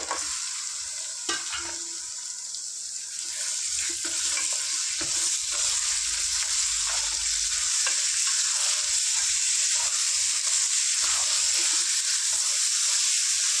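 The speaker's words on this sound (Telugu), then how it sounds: "ఇప్పుడు ఇందులో నేను మటన్ వేసుకుంటా." One kilogram of cleaned mutton fries in a pan for a Telangana-style gravy curry, giving a steady close sizzle with stirring scrapes throughout and no voices.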